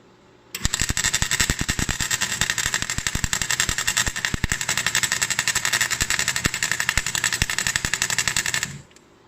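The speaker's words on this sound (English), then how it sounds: "Welding should not sound like that at all." Lotos MIG 140 flux core welder running rough, a loud, continuous sputtering crackle with rapid irregular pops for about eight seconds before cutting off, close and with no talking.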